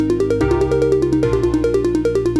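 Bright synth arpeggio in repeating four-note groups, first stepping upward and then answering with a descending run, steady rhythmic plucks played alone and up front.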